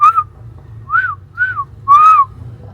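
Four clear whistled notes heard in the woods, each rising then falling, spaced irregularly over a low steady hum; the last note is the longest and loudest.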